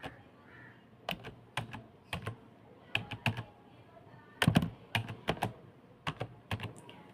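Typing a page title on a computer keyboard: bursts of crisp, close key clicks arrive in short clusters separated by quiet pauses, with a low room hum underneath and no talking.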